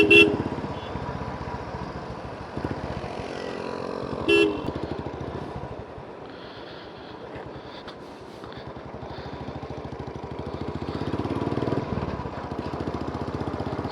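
A vehicle rides along the airport road toward Shidlaghatta, with a steady rumble of engine and road noise throughout and a couple of short horn toots near the start.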